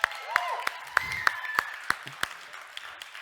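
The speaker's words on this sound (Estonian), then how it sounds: "tehke endale üks suur aplaus, te olete kohal." A small audience at a talk gives themselves applause: a handful of sharp, separate claps at a slow, uneven rhythm, close and moderately loud, with a voice carrying on underneath.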